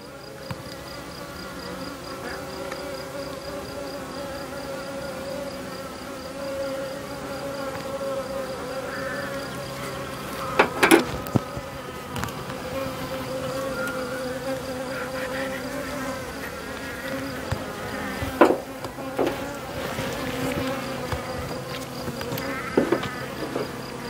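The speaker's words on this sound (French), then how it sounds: "les abeilles adultes peuvent passer par là, mais pas la reine" Honeybees from a hive being worked during queen marking make a steady, dense buzz throughout, with a few sharp knocks and clicks near the hive standing out.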